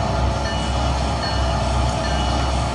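A locomotive in the Trainz 2019 railway simulator rolls along the rails, producing a steady, loud rumble of train wagons with a continuous low drone throughout and no talking.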